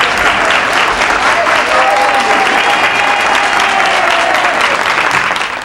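Sustained applause from a crowd on Capitol Hill for Elián González's family, loud and steady throughout without a break, with faint voices mixed into the dense clapping.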